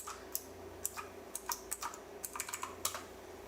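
A Wi-Fi password is typed on a computer keyboard running Linux, with irregular quiet key clicks in short bursts close to the microphone, and no one talking.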